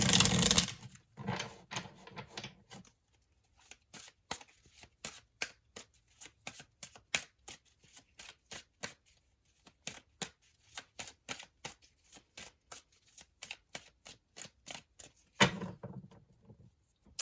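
Tarot cards riffled and shuffled by hand: a dense burst, then a long run of crisp, quick card flicks and snaps in uneven rhythm, ending in another brief riffle, close and alone.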